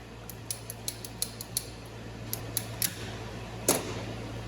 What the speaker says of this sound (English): My method that I prefer to cut with is these PVC cutters. All you gotta do is simply ratchet it down.